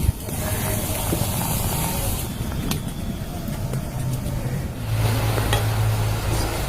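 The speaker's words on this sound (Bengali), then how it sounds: "এবার তেলের মধ্যে নিমকিগুলো দিয়ে ভেজে নেব" Flour nimki snacks fry in hot oil in a kadai, a continuous close hiss and bubble with occasional light clicks, the sizzle swelling louder toward the end.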